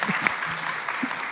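An audience at a college athlete chapel gathering claps in a brief, moderately loud burst of dense applause.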